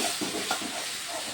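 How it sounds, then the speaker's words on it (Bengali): Cumin and coriander powder sautéing in oil in a pan, a steady close sizzle with soft stirring scrapes over it, continuous and alone. "এখন মশলাগুলোকে ভালো করে আমি কষিয়ে নেব।"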